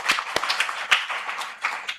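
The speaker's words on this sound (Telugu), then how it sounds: "షారోన్కి చప్పట్లు పెడతామండి" Sparse hand claps from a small audience at a Christian talk, a handful of sharp separate claps spread over two seconds, fairly close with no talking.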